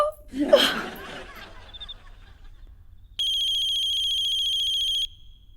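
A brief chuckle and a voice, then a quiet pause before a mobile phone rings with a steady, bright electronic tone that runs for a couple of seconds.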